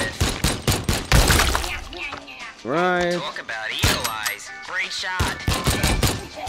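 Gunshots from a VR fruit shooting gallery game ring out as sharp repeated cracks in uneven bursts, mixed with a person talking over them.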